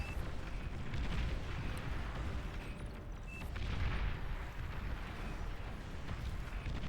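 Bomber strikes in Beyond All Reason, a real-time strategy battle: a dense, continuous roar of overlapping explosions and rumbling blasts, heavy in the low end, with a few surges in intensity across the stretch.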